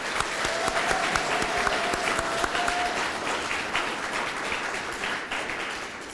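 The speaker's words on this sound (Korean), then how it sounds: "큰 박수 한번 보내주시면 좋을 것 같습니다." Crowd applause at a political party's provincial chapter founding convention in 2021: a large hall audience claps densely and loudly without a break for several seconds, tapering only slightly toward the end.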